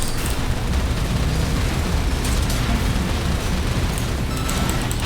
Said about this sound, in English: These are missiles, vertical missiles.